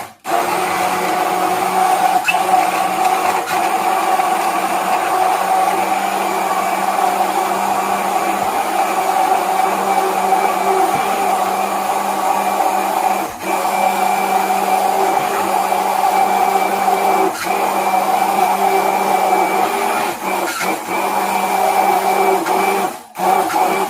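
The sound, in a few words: electric blender blending tocino marinade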